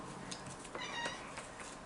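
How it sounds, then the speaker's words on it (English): A pet cat gives a few short, faint meows and squeaks in a quiet room, thin and high, spread over about two seconds. "can you hear my cat squeaking?"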